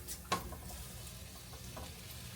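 Sausage meat and onions fry softly in a pan with a low, steady sizzle, broken early by a single sharp scrape of stirring and a few light clicks.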